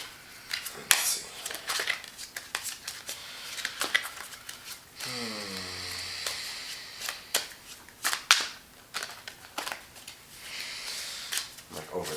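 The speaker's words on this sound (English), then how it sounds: "I'm like overly shuffling at this point." Tarot cards being shuffled by hand, quick riffling and slapping bursts at close range repeated throughout, with a voice talking over part of it.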